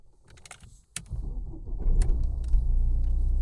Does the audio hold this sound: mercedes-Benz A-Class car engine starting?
yes